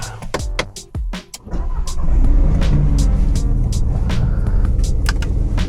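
A Mk8 Golf R engine cold-starts with a quick series of starter clicks and cranking thuds, then catches into a loud, steady, close-up idle roar that holds for several seconds.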